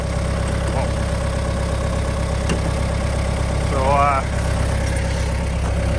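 A tractor engine runs at a steady idle near a sugar maple sawing site. The low throbbing hum is loud and continuous throughout, with a brief metallic squeal partway through.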